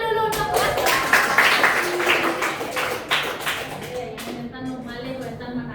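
A group of people clapping their hands together in a classroom, with distinct claps over several seconds and voices talking throughout.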